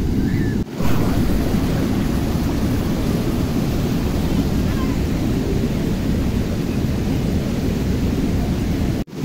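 Floodwater rushes forcefully over the Thirukovilur dam in a loud, steady, roaring wash that sounds close and powerful, with one brief dropout near the start and no voices.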